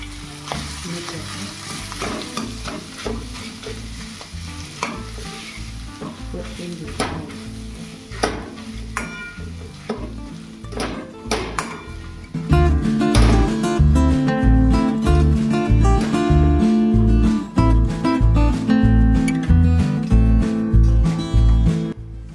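Potatoes frying with turmeric and garam masala in a pan, a loud close sizzle with steady stirring and scraping throughout, the frying growing noticeably louder and denser about halfway through.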